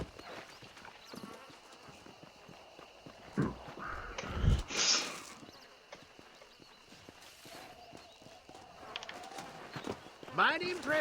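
Horse hooves clip-clop at a steady walking pace in the Red Dead Redemption video game, moderately near, with a soft snort or two and game dialogue voices speaking over parts of the sequence.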